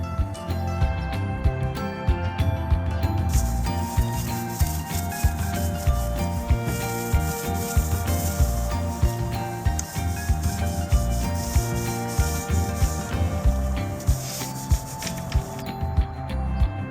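Scuff sanding between primer coats on a secondhand furniture piece being refinished, a steady close scratchy rubbing of abrasive over a primed surface, continuous and rhythmic strokes running throughout with no talking.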